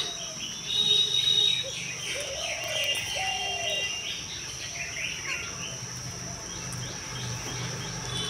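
Small birds flock in to pick at food scattered outdoors, with a cluster of chirps and tweets over a steady insect and cricket drone throughout.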